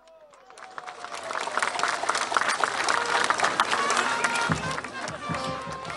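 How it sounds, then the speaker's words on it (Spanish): Applause at a school award ceremony in La Paz, Bolivia. A crowd claps and cheers, swelling steadily to a busy, sustained roar, with voices mixed in throughout. "Prende los aplausos, por favor"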